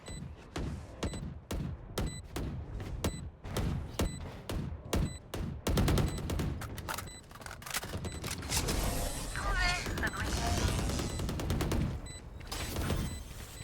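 Valorant gunfire starts as a string of sharp single shots in steady rhythm, then thickens into continuous rapid fire with game effects layered on top, loud and close.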